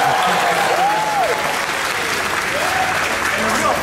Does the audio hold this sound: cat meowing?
no